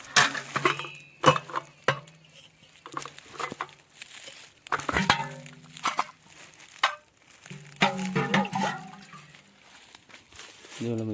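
Water splashes and patters into bird-drinking containers beside a very old well outdoors, with intermittent pours, clinks of vessels and scraping, fairly close and loud.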